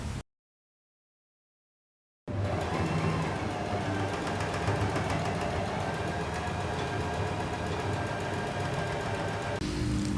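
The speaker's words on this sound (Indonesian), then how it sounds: "Yuk kita lihat videonya gimana performanya ketika menjahit bahan yang tebal." Juki Hazel 355Z heavy-duty sewing machine stitching through thick fabric at a trouser hem fold, a steady fast mechanical whir and rapid needle clatter running continuously after a brief silent gap at the start.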